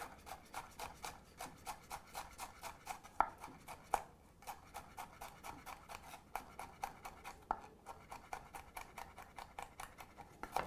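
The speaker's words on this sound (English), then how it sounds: "So we're going to dice this up." A knife dices a jalapeno pepper on a cutting board, giving steady, quick, rhythmic chopping taps. The taps are close and fairly quiet, with a few sharper knocks and no talking.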